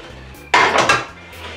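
A cooking pan is pulled out and set down in a home kitchen, giving one loud metallic clatter and scrape of cookware with a faint rattle after it, close by and with no voices.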